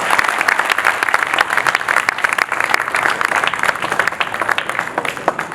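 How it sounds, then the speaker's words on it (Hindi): A crowd gives sustained, enthusiastic applause to welcome a candidate at a Menaria community election gathering, with dense clapping continuing for several seconds. "तालियां बजती रहनी चाहिए भैया।"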